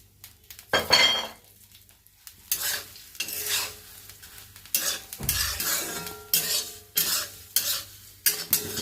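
Hand-made puffed rice (muri) is dry-roasted in a hot pan, stirred in repeated loud rustling, crackling sweeps with occasional clinks of the utensil against the metal.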